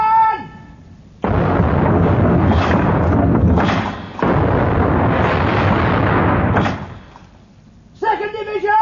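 Naval cannon fire in an old radio drama about a sailing warship: a heavy, sustained roar of gunfire with a second booming burst partway through, loud and close, with voices briefly heard before and after.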